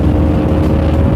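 A Bajaj Dominar 250 motorcycle with a modified exhaust gives a loud, close, steady engine roar that drones on without pause. No one speaks.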